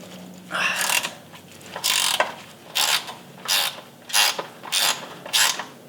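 A ratchet works loose 15mm crossmember bolts on a vehicle during a long arm crossmember install, giving seven quick bursts of clicking in a steady rhythm, close and clear, with no talk.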